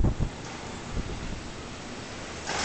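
Strong hurricane wind from Hurricane Ike in central west Houston, roaring and buffeting the microphone in broad rushing gusts, loudest at the start and swelling again at the end.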